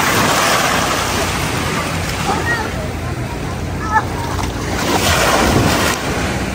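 Sea waves washing onto the beach at Boracay, a steady broadband surf wash with wind noise on the microphone, while people talk over it and a few brief voice sounds break through.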